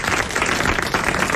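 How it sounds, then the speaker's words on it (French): A studio audience on a 1989 French television quiz show breaks into brisk, dense applause, an even wash of clapping close to the microphone with no talking. "Vous applaudissez Madame Kinette, qui a réussi à coller les gr"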